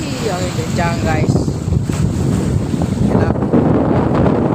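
Strong wind buffets the microphone aboard a boat at sea during rough weather off the Aru Islands, a constant loud roar with wave wash beneath and a voice speaking briefly early on.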